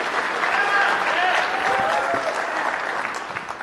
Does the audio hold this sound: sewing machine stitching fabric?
no